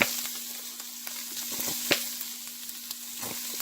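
Onion and garlic for jambalaya fry in a pan with a steady sizzle, broken by scattered light clicks and one sharper tap, all close up.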